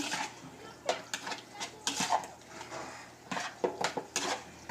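A spoon scrapes and clinks against a dish while mixing seasoned food, giving irregular soft knocks and scrapes at close range with some faint background noise.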